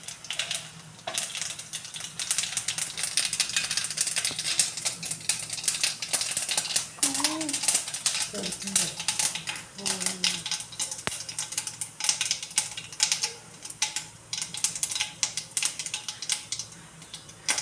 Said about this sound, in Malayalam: പാൻ വെച്ച് എണ്ണ നല്ലോണം ചൂടായതിന് ശേഷം കുറച്ച് കടുക് ഇട്ട് പൊട്ടിക്കുക